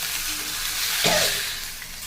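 Fish, a jilebi fish, frying on a flat tawa: a steady broad sizzle throughout, swelling briefly near the middle as the pan is stirred or the fish is moved, then settling back to a continuous crackle.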